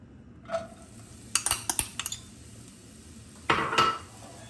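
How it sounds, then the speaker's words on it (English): Chopped onions tip into a pan with a teaspoon of coconut oil, giving a quick clatter of utensil taps against the pan. A louder scrape and rattle follow later, with only a faint sizzle beneath and no talking. "To a suitable pan, I'm going to add a teaspoon coconut oil and my onions."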